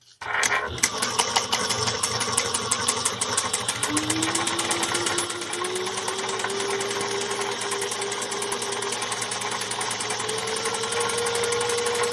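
A sewing machine back stitches a handbag seam at a quarter-inch allowance, its needle hammering in a steady rapid rhythm close up and loud, with a rising motor whine as the stitching speeds up.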